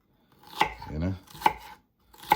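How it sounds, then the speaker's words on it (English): A knife chops celery on a cutting board for a Cajun gumbo: three sharp, separate thuds spaced about a second apart, close and crisp, with a brief low murmur between the first two. "Chop up our celery."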